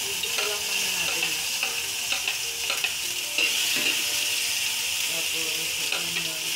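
Tomatoes frying in olive oil in a pan, a steady close hiss of sizzling with scattered stirring clicks and scrapes, continuous throughout without voices.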